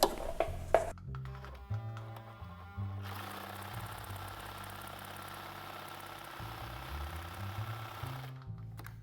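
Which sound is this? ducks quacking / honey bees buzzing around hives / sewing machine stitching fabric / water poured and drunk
sewing machine stitching fabric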